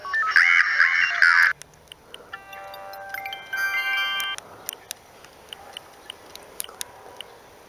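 A Vodafone ringtone plays on a Siemens C6V mobile phone, a bright electronic melody of repeated tones, loud at first and then softer, with a second short tune following. Faint clicks scatter through the rest.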